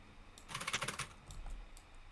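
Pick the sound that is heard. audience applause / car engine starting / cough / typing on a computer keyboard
typing on a computer keyboard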